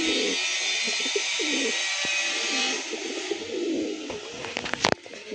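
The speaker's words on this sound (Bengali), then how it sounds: "এবং পায়রাগুলো আমি ছেড়ে দেখাচ্ছি, দেখুন" Andhra pigeons coo softly and steadily in a low, warbling murmur, with a brief burst of wing flapping near the end as they are released.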